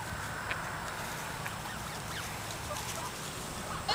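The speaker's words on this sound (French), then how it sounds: "C'est cute, là, le petit bruit qu'ils font. Ah, mais check les petits canards, là" Small ducks quacking softly nearby over a steady outdoor background hiss, a few faint calls scattered through the brief moment with no talking.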